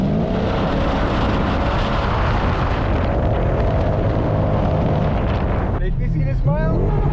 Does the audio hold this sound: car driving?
yes